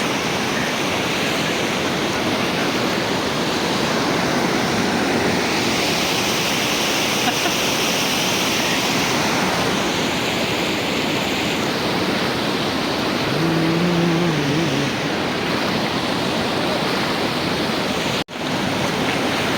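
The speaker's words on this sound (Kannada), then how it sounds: "ಓ ಸಖತ್ತು ಫೋರ್ಸ್ ಇದೆ ನೀರು." Forceful water rushes at Jademaysandra lake in a loud, continuous roar that stays dense and steady from start to finish, heard close up with no voices over it.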